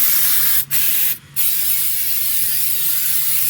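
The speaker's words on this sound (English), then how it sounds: "And you just kind of spray everything you can, get it into the little holes." A loud, continuous aerosol undercoating spray hisses up close as it is applied to a car's underside for rustproofing, broken by two brief pauses before resuming steadily.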